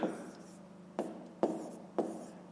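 A pen writes numbers on paper during a fifth-grade maths fraction exercise, a few short scratchy strokes in a halting rhythm, close and fairly quiet.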